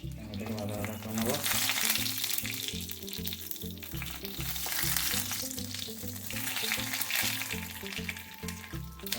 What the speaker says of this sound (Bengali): তারপরে আমরা এতে দিয়ে দেবো, তেলটা একটু গরম হয়ে আসলে, 5 ফোড়ন ও তেজপাতা, শুকনো লঙ্কা।